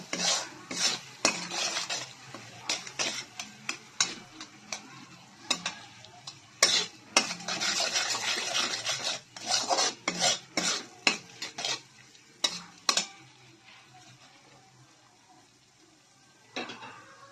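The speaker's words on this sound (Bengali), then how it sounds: "এবারে লবণটাও দিয়ে দিচ্ছি দিয়ে ভালোভাবে কষিয়ে নেব" A spoon stirs and scrapes through dhokar dalna masala with Kashmiri chilli and salt in a pan, making bursts of clattering metal strokes over a faint sizzle, then a quieter stretch near the end.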